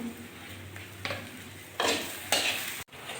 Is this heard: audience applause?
no